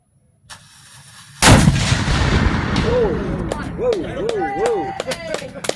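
A Civil War muzzleloader cannon fires a single loud, booming shot at a live-fire demonstration, and its rumble rolls away while people react and talk in the background.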